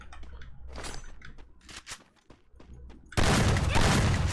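A machine gun in Free Fire fires in sporadic bursts amid game noise, then erupts into a loud continuous barrage that fills the final second.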